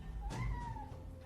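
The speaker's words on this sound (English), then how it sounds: "That's a cat." A single short cat meow, rising then falling in pitch, sounds fairly close and clear over quiet room noise, lasting under a second.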